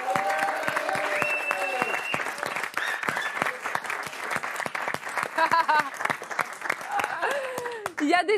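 Studio audience applause on a French talk show, brisk clapping heard close throughout, with people talking and cheering over it and brief musical tones near the end.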